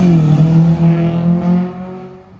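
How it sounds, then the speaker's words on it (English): Engine-swapped Honda Civic with VTEC revving hard in fifth gear, a loud, close, steady engine note holding a strong buzzing tone before easing off at the end. "it's revving around the VTEC"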